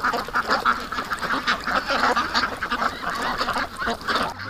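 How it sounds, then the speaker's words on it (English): A flock of ducks quacks busily and continuously close by, with overlapping calls forming a steady, loud chorus and no talking. "Busy ducks."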